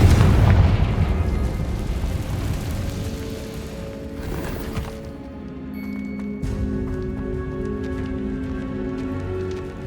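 Confringo fire spell in the video game Hogwarts Legacy, a loud boomy blast at the start that fades into crackling debris and lingering rumble with faint tonal game ambience.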